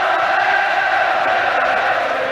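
A huge crowd of 80,000 at Wembley during an England versus Republic of Ireland football qualifier sings and roars in a steady, dense wall of voices, loud and continuous throughout.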